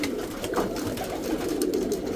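A loft of domestic pigeons keeps up a continuous low cooing nearby, a dense steady murmur from several birds with no talking on top.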